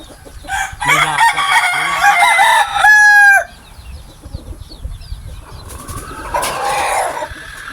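A labuyo-breed rooster crows loudly nearby in one long drawn-out call, with clucking and other fowl sounds around it and softer bird calls afterward.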